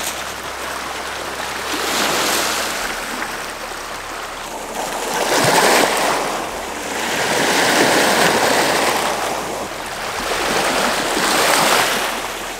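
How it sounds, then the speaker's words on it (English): Lake Huron waves washing in and receding in slow, rolling surges along the shoreline, a steady hiss of water nearby with no voices. "Is there anything better than the sound of waves?"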